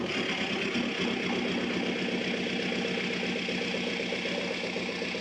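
VW TDI diesel engine after an injection pump replacement, running steadily with a rough, clattering idle throughout, close and moderately loud, with no speech.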